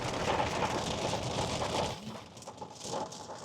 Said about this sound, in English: it is bucketing down with rain